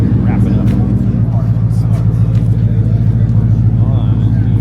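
A Shelby Mustang at a Sunday car show rumbles nearby with a deep, steady, throbbing low-end, while people talk over it.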